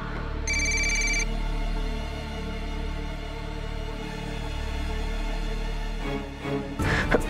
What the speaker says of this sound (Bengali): মনে পড়েছে, ওটা তো অরূপের ফোনের রিংটোন